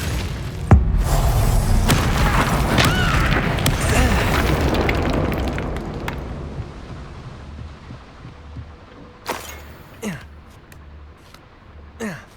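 Explosive spells cast in the video game Hogwarts Legacy, a loud burst and booming rumble that fades out over several seconds, followed by a few fainter bangs near the end.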